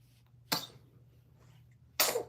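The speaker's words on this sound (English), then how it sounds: "Oh, bless you, boo." Two sharp, loud sneezes, one near the start and another about a second and a half later, each a sudden burst over a quiet room hum with no speech.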